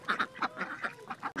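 Ducks quacking near a nest with eggs, a quick series of about ten sharp nasal quacks in uneven rhythm, close and fairly loud with no talk over them.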